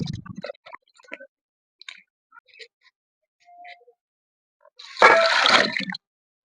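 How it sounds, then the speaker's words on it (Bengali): Peeled onions being washed by hand in a bowl of water: scattered light clinks and drips, then a brief burst of sloshing, splashing water near the end. "আবারও আমি একবার ভালো করে ধুয়ে নেব পেঁয়াজগুলোর"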